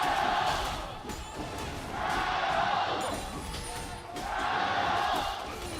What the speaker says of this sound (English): You can hear the audience cheering it because this is a very close game.